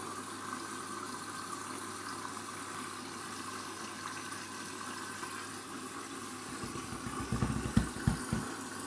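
A washing machine fills with water during a shoe wash rinse cycle. A steady, low rushing flow runs throughout, with a few heavier splashing thumps near the end.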